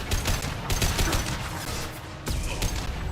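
Sustained automatic gunfire with Inferno incendiary ammo in the video game Mass Effect, loud dense bursts of shots rattling continuously with a brief dip near the end before firing resumes.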